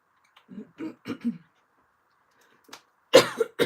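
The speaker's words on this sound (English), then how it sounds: "A bit of a tickly cough." A few soft, short coughs near the start, a pause, then a louder, harsher cough close up, with a little breathy follow-through.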